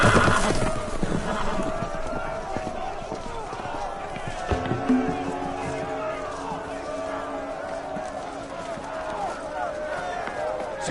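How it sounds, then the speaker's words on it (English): Loose horses neigh and gallop in a Game of Thrones game scene, with a sharp whinny and thudding hooves over busy clattering commotion and a voice shouting among the noise. "The horses! They're loose!"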